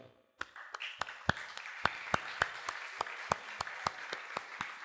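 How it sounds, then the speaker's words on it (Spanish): A church congregation gives the Lord a round of applause: after a brief quiet start, loud, evenly spaced claps ring out in a steady rhythm over soft, diffuse background clapping, fairly close and with no talk. "vamos a dar un aplauso al Señor."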